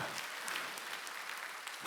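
A church congregation at a Sunday worship service applauding, a continuous wash of many hands clapping at moderate distance throughout, with no clear voices.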